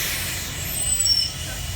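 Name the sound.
tour bus being restarted after a breakdown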